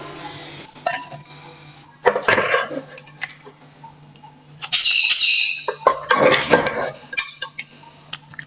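Chicken karahi being served from the pot into a bowl, with several clinks and scrapes of a spoon against metal and a ceramic bowl, coming in short bursts separated by quiet pauses.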